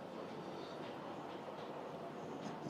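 A Thomas the Tank Engine model train runs steadily in the background, a continuous low rumbling whir with faint clicking, unbroken for the whole stretch and fairly quiet.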